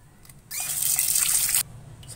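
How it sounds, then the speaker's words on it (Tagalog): Water gushes in a single pour of about a second into a baking mixture of flour and baking powder, loud and close, before it cuts off. "paglalagay ko po ng tubig ay tantsahan lang"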